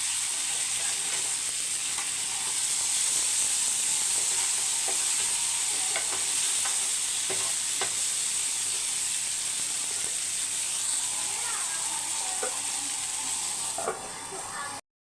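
Fish sizzles and crackles steadily in oil in a pan over a low flame, roasting until crisp, with occasional soft scrapes and clicks as it is turned.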